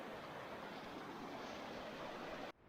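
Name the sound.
full creek flowing from rain and snow melt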